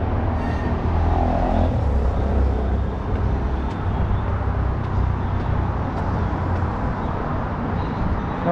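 Steady traffic rumble of cars driving into Mexico on the approach to the Tijuana border crossing, a continuous low drone of engines and tires that stays fairly loud and even throughout, with no voices.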